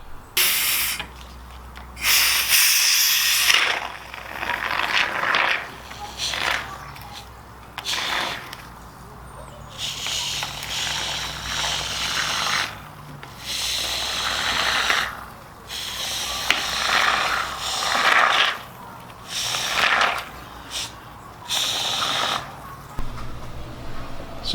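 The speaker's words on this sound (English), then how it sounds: "I've got some of that expanding foam for that." Expanding spray foam hisses out of a can into gaps on a teardrop camper build, in repeated bursts of a few seconds each, separated by short pauses and faint clicks of the nozzle.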